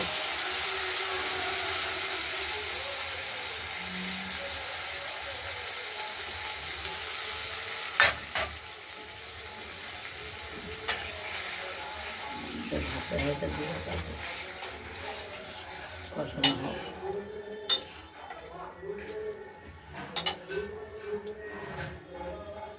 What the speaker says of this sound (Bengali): এবার মশলাটা দিয়ে আমরা কষিয়ে নেব